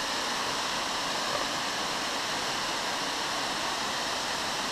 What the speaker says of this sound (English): It's like a 50-foot waterfall, 50, 60 foot.